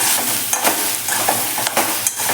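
Soybean chunks are stirred with chilli powder, salt and turmeric in a pan, giving a close, continuous scraping and sizzling with periodic stir strokes.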